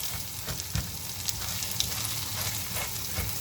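Fried rice with egg sizzling steadily in a hot pan as it is stirred, with a few scraping clinks of the utensil over a continuous close frying hiss.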